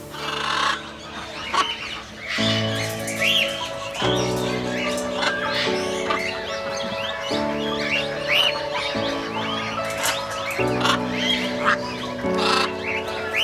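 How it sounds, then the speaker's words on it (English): Birds call and cluck in a bird aviary park in Islamabad, a dense chorus of chirps and fowl-like clucks layered over sustained background music. "watching colorful and melodic birds perching and winging about freely"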